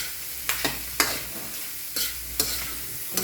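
Dinuguan sautés in a pan under a soft continuous sizzle, while a spoon scrapes and stirs it in several sharp strokes spaced about a second apart.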